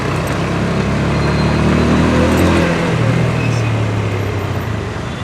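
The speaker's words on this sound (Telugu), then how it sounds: "ట్రాఫిక్ గట్టిగా ఉన్నది" Heavy road traffic in Secunderabad with auto rickshaws: a dense, continuous rumble of engines and passing vehicles, loud and close, with droning motor tones rising and shifting throughout.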